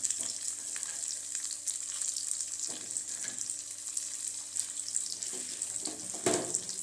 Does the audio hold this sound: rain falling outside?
no